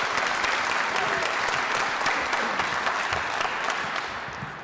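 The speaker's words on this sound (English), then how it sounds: "Give him a round of applause" Sustained, dense audience applause fills the hall at an agri-food debate semi-final, steady clapping from a large crowd that tapers slightly at the end.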